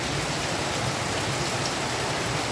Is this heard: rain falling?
yes